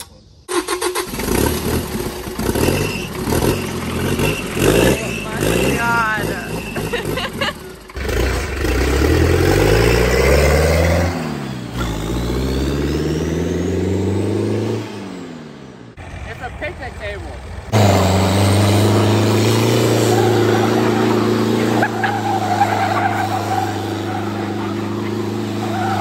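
2.2 liter turbo diesel engine from a 1983 Ford Ranger mounted on a picnic table, cranking and starting, then revving up and settling through long rising and falling pulls, loud and close, with a voice talking over parts of it.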